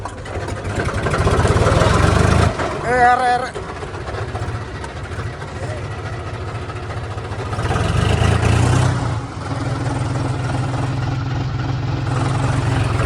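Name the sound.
tractor engine starting after being pushed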